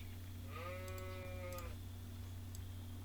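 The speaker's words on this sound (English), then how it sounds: "There's a sheep right here" Sheep bleating in the real-time strategy game Age of Empires 4, one wavering bleat of about a second over a steady low game hum, moderately close.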